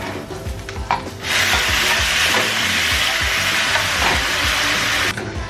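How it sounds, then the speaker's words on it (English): Loud, steady sizzling and crackling as pasta and water hit a hot pan, starting after a few soft clinks and holding throughout. "the sizzling should go away"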